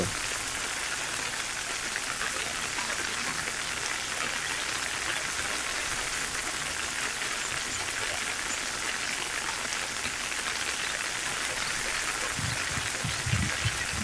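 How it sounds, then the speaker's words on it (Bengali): Rain falls steadily by the Gumti river in Cumilla, a dense, even hiss of drops on surfaces, loud and continuous throughout, with a few heavier patters near the end. "আপনারা এখন দেখছেন কুমিল্লা গুমতি নদীর পাড় থেকে বৃষ্টি পড়ার এক সুন্দর দৃশ্য"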